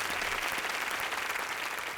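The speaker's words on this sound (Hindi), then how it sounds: "एक जोरदार ताली बजा दा।" An audience at an Indian television game show gives a hearty round of applause, dense and continuous clapping throughout, moderately close with no voices over it.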